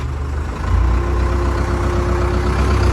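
A farm tractor with 9012 hours on it, just restarted in the field, idles with a steady low rumble and a faint humming tone, close and loud, louder after the first half second.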